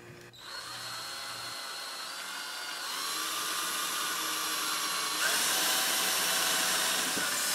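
Power drill boring into a metal knife blank, a steady close whine that climbs in pitch partway through as the bit bites, loud and continuous with no voices.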